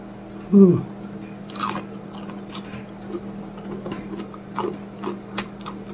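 Crunchy bites into food at a mukbang meal of rice and onion with dipping sauce, one sharp loud crunch followed by softer chewing crunches and clicks nearby.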